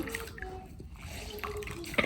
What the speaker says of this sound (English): I have towel here. I'm putting it to warm water.